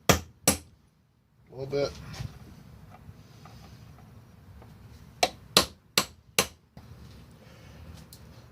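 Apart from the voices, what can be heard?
hammering chisel to knock out ATV wheel bearing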